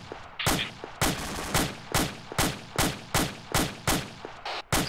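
Rifle fire in ArmA 2 with the ACE mod: about eleven sharp, evenly spaced shots at a steady rhythm, each with a short decaying tail, fairly close and alone.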